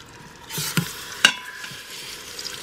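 Pork chops go into hot oil in a pan, with a soft sizzle and a couple of sharp clinks of metal against the pan. The sound is close, with no talk.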